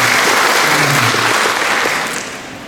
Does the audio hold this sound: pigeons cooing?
no